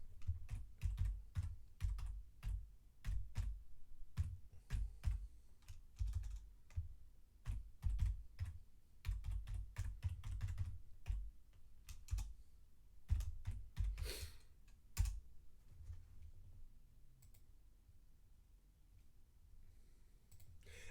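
Steady typing on a computer keyboard, dense close key clicks in uneven bursts with brief pauses and a few sharper clacks, alone with no talk.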